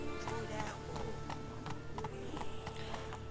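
Roach, the horse in The Witcher 3, runs with a rapid, regular clip-clop of hooves. The hoofbeats stay steady throughout over a continuous background of game music and ambience.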